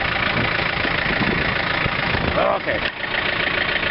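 A John Deere 110 TLB tractor engine runs steadily while powering a snow blower, a continuous mid-to-low rumble with a brief dip near the end, and a voice speaks briefly over it.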